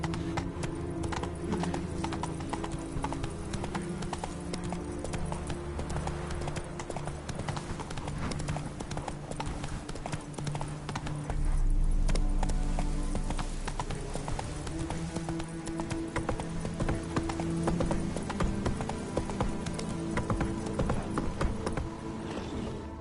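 Horse hooves gallop in a PS4 video game, a fast, steady clip-clop that runs unbroken for the whole stretch, close and loud amid busy game sound.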